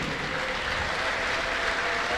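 Congregation clapping during a lively church worship service led by a prophet, a dense, steady patter of many hands that holds for a couple of seconds without a break.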